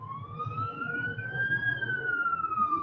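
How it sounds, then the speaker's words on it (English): A single emergency vehicle siren wails down the road at moderate distance, its pitch rising and then falling slowly as it passes, over low rumbling background noise. "Another siren."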